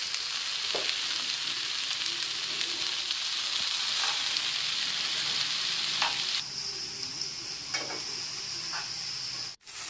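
Okra and tomato fry in a pan with a constant close sizzle, punctuated by occasional scrapes and taps of a stirring spoon and a brief knock near the end.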